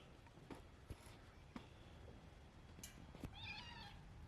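A cat gives a faint, short meow near the end, after a few soft taps and knocks in a quiet room.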